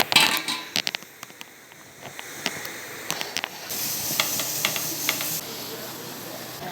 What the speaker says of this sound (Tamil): சிக்கன் நல்லா பாயில் ஆகுதுமா?